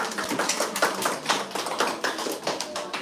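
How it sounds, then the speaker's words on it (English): An audience applauds a contestant at a school public speaking competition: dense, steady hand clapping close by, with rippling bursts lasting throughout and no voices over it. "A huge round of applause for him once again."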